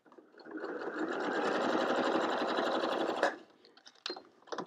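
A sewing machine runs a straight stitch through clear vinyl, a close, rapid mechanical whirring for about three seconds, then stops, followed by a few short clicks and handling knocks.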